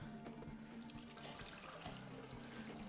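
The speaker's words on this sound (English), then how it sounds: "And then I'm gonna dump some water again into a tea maker." Water poured into a tea maker, a steady faint splashing stream running the whole time with no pauses.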